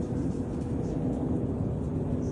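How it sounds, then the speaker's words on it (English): A propeller plane flying low overhead gives a steady, broad engine drone that fills the whole moment at a constant level, with no voices over it. "Sounds like a prop plane."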